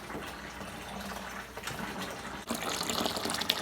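Hot water gushing steadily into a mash of raw wheat grain during home brewing of wheat beer, a continuous close pouring rush that swells louder toward the end, with no talking.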